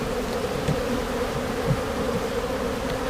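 A honeybee swarm hums steadily around hive frames of weird, off-frame drawn comb, a dense continuous buzz close to the ear with no gaps.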